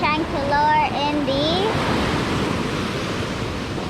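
Big ocean waves break on a beach where someone is surf fishing, a steady, loud rushing roar of surf that fills the whole stretch, with a voice speaking briefly over it at the start.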